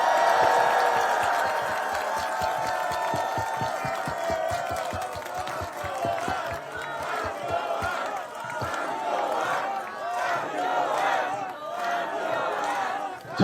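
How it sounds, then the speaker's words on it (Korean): Audience at an outdoor press conference at Olympic Park in Seoul claps and cheers to welcome Hwang Kyo-ahn, a steady dense round of applause with some shouting, lasting throughout. "박수 한번 부탁드리겠습니다"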